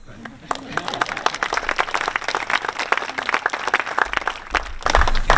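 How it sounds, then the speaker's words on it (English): An audience at a school ribbon cutting ceremony applauds with dense, steady clapping that builds slightly toward the end, with some voices underneath. "So you guys give yourself a round of applause for picking such a, uh, such great uh, consultants."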